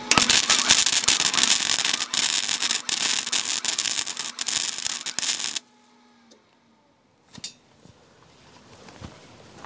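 A wire-feed welder running at about 90 amps on an EcoFlow Delta 2 Max battery pack sputters and crackles loudly for several seconds, then stops abruptly, leaving near silence with a few faint clicks.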